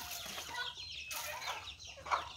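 Several chickens cluck and chatter in a steady, busy stream, fairly close, with a sharper squawk near the end.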